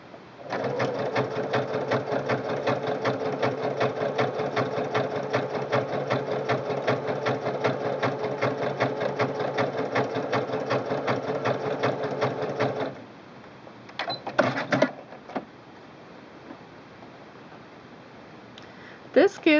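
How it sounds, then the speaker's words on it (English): A Singer Quantum Stylist 9960 sewing machine runs a steady, fast zigzag stitch to sew cording down, whirring close and even for about thirteen seconds before stopping, followed by a few brief mechanical clicks and adjustments. "I'm going to show you what it looks like to stitch this braid down or cording down with a zigzag"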